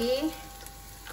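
A lobster dropped into a hot pan for misua noodle soup, giving a short burst of frying sizzle that settles into a steady crackle, close up with no talking.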